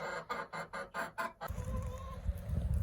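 A series of about six rhythmic hen clucks, close and fairly loud, followed by a rumbling low background with faint further clucking.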